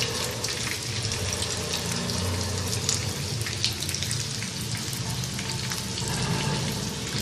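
Chicken fillets fry in a pan with a continuous dense sizzle and crackle, steady and close throughout, with faint low background hum and no talking.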